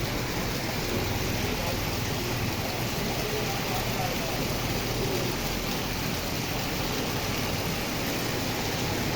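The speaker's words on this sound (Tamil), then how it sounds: "இன்றைக்கி நல்லா நின்று பெய்யுது மழை" Steady, dense rain pours continuously in Sivaganga, Tamil Nadu, a heavy wash of noise with no breaks and no other clear sounds.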